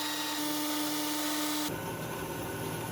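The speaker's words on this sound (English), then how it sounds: "Now we are going to machine this aluminum cylinder." An aluminum cylinder being machined into a mount for a manual recoil starter on an alternator shaft: a loud, steady, continuous metal-cutting whine and grind that shifts to a rougher, fuller tone partway through, with no talking.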